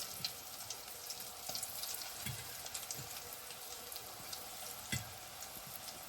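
Half-onion rings deep-fry in oil, giving a steady soft sizzle and crackle with occasional small pops, fairly faint and close.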